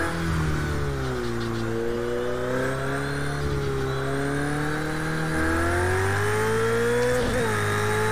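A Porsche race car in Project Cars 2 drives on a dynamic track with its engine droning steadily and loud, pitch sliding up and down through gear changes over several seconds.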